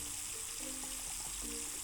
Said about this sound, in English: we need to wash our hands with cold and hot water